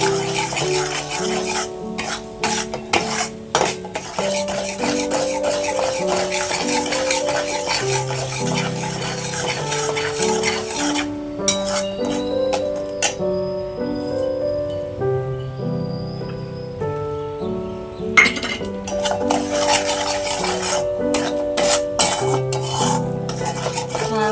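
Amaranth flour being stirred and slowly roasted over low heat in a pan for farali sheera, with steady scraping and clinking of a spoon against the pan under a continuous bed of background music.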